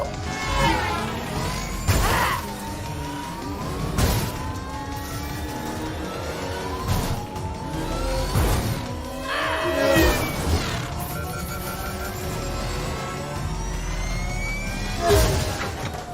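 A vehicle crashing in the video game Mass Effect 2: repeated heavy impact bangs land every couple of seconds over a droning engine and whining, siren-like tones, with loud game effects throughout.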